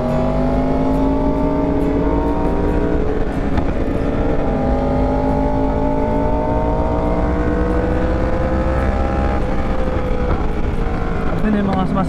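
A Yamaha R1 liter bike's engine drones loud and close without a break, its pitch rising and falling smoothly as the revs change.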